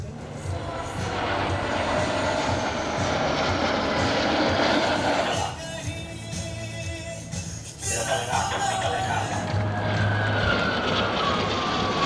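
Military aircraft roar overhead in formation during an army graduation parade, a loud, steady jet-engine drone that swells and shifts in pitch as the planes pass, with no talking.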